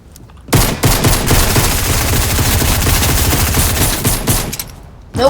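Rapid gunfire from a heavy shotgun in a video game, a dense, loud burst of shots lasting several seconds before stopping abruptly.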